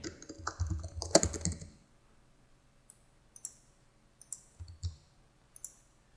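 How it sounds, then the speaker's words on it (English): Equation typed on a computer keyboard: a quick dense burst of key clicks, then scattered single taps with pauses between them, close and clear. "I can type the equation for the deflection in the beam"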